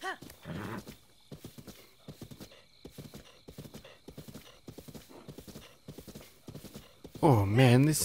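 Steady clip-clop of horse hooves at a trot in The Legend of Zelda: Breath of the Wild, ending in a loud, wavering horse whinny near the close.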